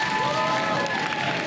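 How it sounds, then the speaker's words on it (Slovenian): Steady, dense applause from a studio audience for the primary school teams at the Slovenian quiz show Hitri lončki. The clapping is even and continuous through the brief moment, with faint crowd voices mixed in. "Velik aplavz pa tudi za osnovno šolo Grm Novo mesto."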